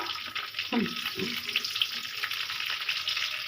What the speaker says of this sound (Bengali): এবার বন্ধুরা দেখুন ফোড়নেতে আমি কি দিচ্ছি দেব অল্প পরিমাণে কালো জিরে চেরি করা কাঁচা লঙ্কা